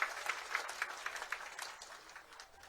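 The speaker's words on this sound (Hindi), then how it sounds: "तो जोरदार ताली बजाओ हमारे अपने सांसद निशिकांत जी के लिए" Applause from a crowd at an election rally in Deoghar, Jharkhand, sounds as faint, distant rhythmic clapping in steady bursts that fade slowly toward the end.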